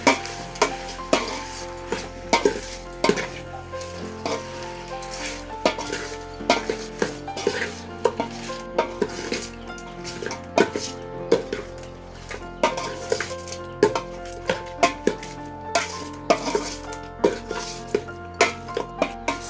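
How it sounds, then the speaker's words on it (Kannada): A spoon stirs a chicken sambar mixture in a metal pot, giving repeated close scraping and clinking strokes in an uneven rhythm over a soft bubbling sizzle, with no talk. "ಸೊ ಉಪ್ಪು ಅದನ್ನೆಲ್ಲ ಹಾಕಿದ ನಂತರ ನೀಟಾಗಿ ಒಂದ್ಸರಿ ಮಿಕ್ಸ್ ಮಾಡ್ಕೊಳ್ಳಿ"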